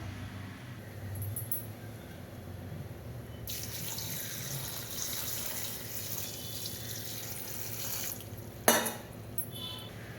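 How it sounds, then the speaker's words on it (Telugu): Water runs into a cooking pot holding fenugreek leaves and lentils. A low kitchen hum gives way to a steady rushing pour, then a sharp metallic clink near the end. "ఇందులో సరిపడా వాటర్ యాడ్ చేసుకుందాం"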